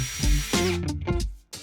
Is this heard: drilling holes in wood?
yes